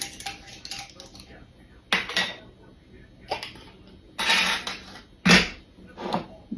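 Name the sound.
opening spice containers in the kitchen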